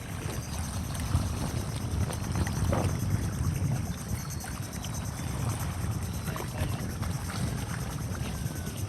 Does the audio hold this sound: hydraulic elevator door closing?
no